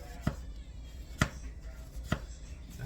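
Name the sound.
knife slicing an onion into thin slices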